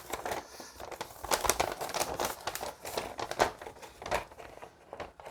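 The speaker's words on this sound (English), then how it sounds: "it's one of these ones that explodes out into a huge piece of paper" A large folded paper instruction manual for a fan and RGB controller is opened out, giving a steady run of close crinkling, rustling and crackling paper noise with sharp snaps as the sheet unfolds.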